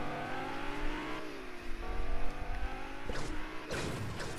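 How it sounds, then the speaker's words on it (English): Lamborghini driving in Fortnite, a steady engine tone with rising and falling pitch, a couple of sharp knocks or impacts near the end, close and fairly quiet. "we're going to drive in our Lamborghini and go"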